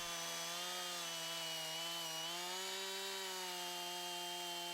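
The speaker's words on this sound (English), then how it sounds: "bring the saw into the side of the trunk and let the tip cut into it" A Jonsered chainsaw cuts into the side of a tree trunk during felling. The engine keeps a steady high-pitched whine throughout, close to the microphone and loud, with no talking.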